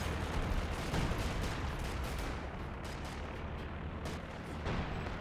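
Continuous artillery barrage in Company of Heroes 2, a steady wall of booming, rumbling explosions and distant gunfire with no clear gaps, loud and dense throughout.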